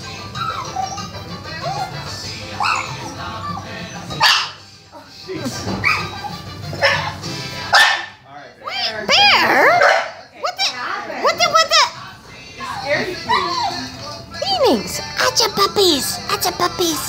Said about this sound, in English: Don't bark like that.